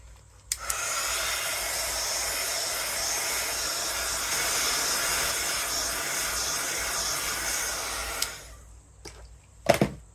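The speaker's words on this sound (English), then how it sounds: "dry it with your hair dryer" A hair dryer blows steadily with a loud, breathy roar for several seconds, then cuts off, followed by a couple of brief clicks and knocks.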